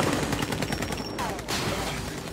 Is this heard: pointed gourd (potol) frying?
no